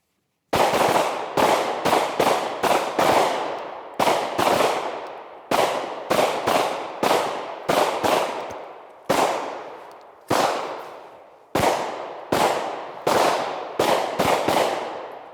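Handgun fired repeatedly in a shooting-while-moving drill on a range, sharp loud reports in quick bursts of two to five with ringing decay and short pauses between strings, no voices.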